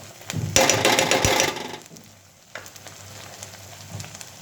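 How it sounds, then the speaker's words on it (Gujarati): A dollop of butter hits hot paneer bhurji in a pan, giving a loud sizzle for about a second that fades, followed by quieter scraping and stirring. "હું ખાલી એક ડોલોપ્સ ઓફ બટર આમાં એડ કરીશ"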